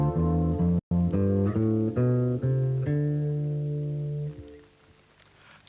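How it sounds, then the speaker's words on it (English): Guitar playing a Dorian-mode line over a minor seventh chord in a rock lesson: a run of ringing notes with a brief dropout near the start, then a long sustained note fading into quiet. "a Dorian mode will sound good against a minor 7th chord"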